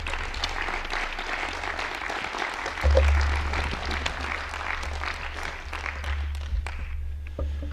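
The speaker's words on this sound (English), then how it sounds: "with a big round of applause" Audience in an auditorium applauding to welcome Professor Duncan Lorimer as the first speaker, a dense steady round of clapping that holds for several seconds, with a low hum and a brief thump beneath.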